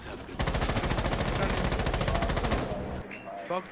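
Automatic gunfire in a PS4 shooter rattles in a rapid, loud, continuous burst for a few seconds, then stops, leaving a brief voice and softer game sounds behind.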